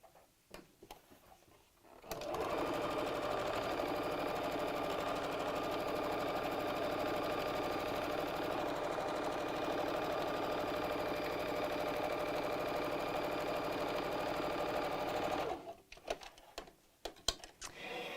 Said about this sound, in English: Right sides together, so face down, and we'll just sew across the top.